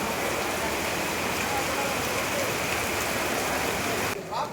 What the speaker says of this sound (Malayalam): നല്ല മഴയാണ് ഗൈസ്, ഭയങ്കര മഴ, ഇടിച്ചു കുത്തി മഴ.